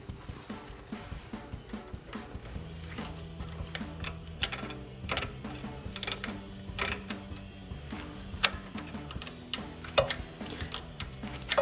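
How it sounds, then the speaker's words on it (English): An open wrench threads a front brake caliper hose back in on a RAM 2500, giving faint irregular metallic ticks and clicks over a low steady background hum. "we're gonna screw that back in with our open wrench"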